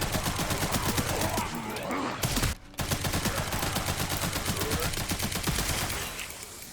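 Rapid machine gun fire in Resident Evil 9 rattles in a fast, steady stream of close, loud shots, briefly cutting out midway before resuming and tapering off.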